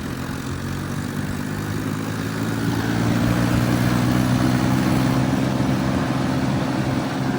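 A tractor engine runs at low throttle, a steady deep droning hum with a faint mechanical clatter that grows a little louder partway through and then holds even.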